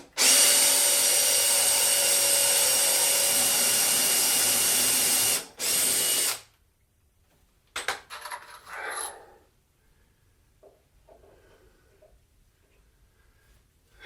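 A power drill driving into wood while building a vinyl record shelf whirs loudly and steadily for several seconds, stops, gives a brief second burst, then a few faint clicks and knocks follow.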